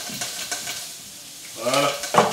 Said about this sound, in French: donc le feu étant éteint, on va mélanger tout ça